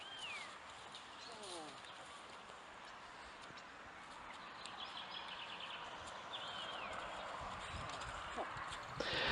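Freshly saddled horse walking in a circle around its handler: soft, faint hoof steps on the ground, with birds chirping in the background and a voice talking over it.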